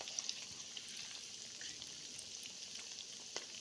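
Chicken pakora coated in gram flour batter frying in hot oil, a steady soft sizzle and crackle with a few faint pops, no talk.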